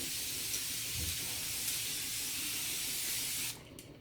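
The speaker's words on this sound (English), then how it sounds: "I'm going to have to spray better than that, aren't I?" Aerosol can of Australian Gold instant sunless tanner sprayed in a shower: a continuous broad hissing spray, close and steady for several seconds, then cutting off abruptly into quiet room tone.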